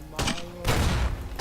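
Loud shotgun blasts in the video game USA 2077, two broadband bursts, one long and one cut off at the end, over a steady game backdrop.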